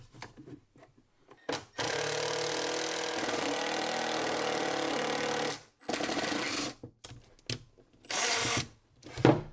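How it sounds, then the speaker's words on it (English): Screws driven from behind into kitchen cabinet panels with a power drill: one long, loud, steady run of nearly four seconds, then several shorter bursts separated by brief pauses. "And then I can start screwing them in from the back"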